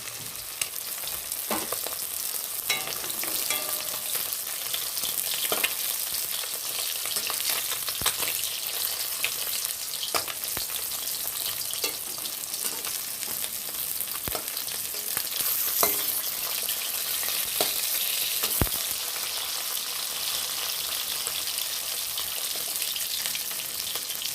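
Marinated fish pieces frying in a pan, browned on both sides, give a steady, dense sizzle and crackle that carries on without a break, with occasional brief clicks and pops near the mic. No one speaks.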